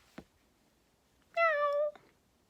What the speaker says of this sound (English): The cat says, meow.